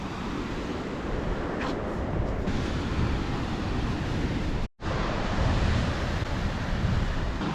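Ocean surf breaks steadily on a New Zealand shore, a continuous broad wash of waves mixed with gusting wind against the microphone.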